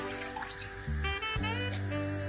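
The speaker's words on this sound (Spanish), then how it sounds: "Para el almíbar simplemente echaremos en un cazo el agua," Water pours steadily into a saucepan for an orange syrup, a continuous close running stream with a hollow, rising tone as the pan fills.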